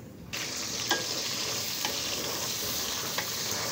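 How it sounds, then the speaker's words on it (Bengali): A paste of green chilli, onion, garlic and ginger sizzling steadily in a pot while being stirred, a continuous close frying hiss broken by a few faint spoon knocks, no voices. "মশলাগুলো দিয়ে আম্মু ভালোভাবে নাড়াচাড়া করে নিচ্ছে।"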